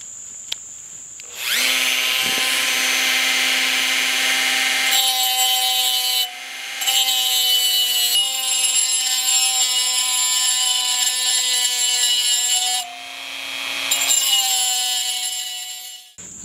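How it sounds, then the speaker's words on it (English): A small non-reinforced cutoff wheel grinds through metal to cut out a lathe chuck backplate, a loud, close, high whining screech running in long passes broken by short pauses, with no speech. "I love these little non-reinforced little cutoff wheels"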